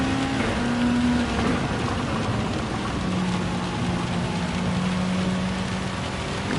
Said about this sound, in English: Oh yeah, we're wets right now. It's rained so much.